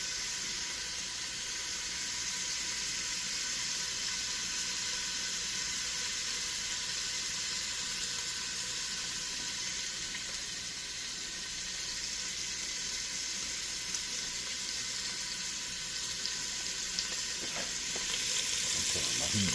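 Frozen green beans fry in a pan of oil with a steady, dense sizzle and crackle that holds for the whole stretch and swells slightly louder near the end, with no talking over it.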